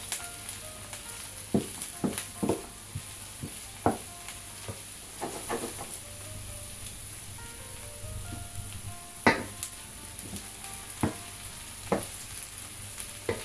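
Beef, okra and aubergine are stirred in a pot over a steady low sizzle, with a spoon scraping and knocking the sides in irregular close taps, no voices.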